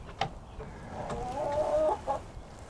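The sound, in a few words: chickens clucking in a coop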